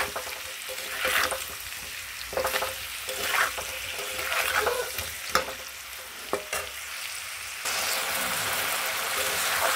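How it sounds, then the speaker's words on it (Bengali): Potatoes with turmeric, ginger and salt are stir-fried in a pan, with repeated spatula scrapes at an uneven rhythm over a constant close sizzle that grows louder toward the end. "এবার এটাকে ভালো করে কষাবো।"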